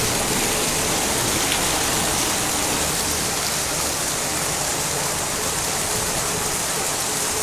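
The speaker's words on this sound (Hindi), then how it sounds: "तो देखिए कितनी तेज़ी के साथ बरसात है" Heavy rain pours down steadily in Ramgarh Shekhawati, a dense, continuous hiss of water drumming on surfaces close by, with no voices and no break in the downpour.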